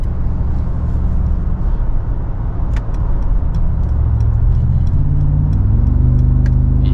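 A Mercedes G-Wagon cruises on a freeway at night, its engine giving a steady low grumble that swells and shifts pitch as it accelerates, with faint clicks above the drone.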